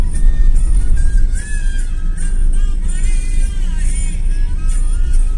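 A busy street in Pune, with cars and other motor vehicles rumbling past close by and steady engine noise. Occasional horn-like tones rise above the traffic, and no clear talk is heard.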